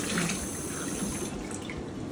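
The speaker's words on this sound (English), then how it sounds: "With the really hot water." Hot water runs from a kitchen tap over an egg being washed, a steady close splashing hiss that shifts in tone partway through as the flow changes.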